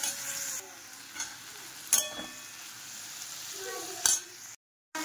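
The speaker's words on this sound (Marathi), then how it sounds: "पाच मिनिटं चांगलं ह्याला परतून घेतलं माझं सगळं सामान." Ingredients sautéing with biryani masala in a pan, a steady sizzle with a few sharp spatula scrapes and clinks against the metal, close and alone with no talk.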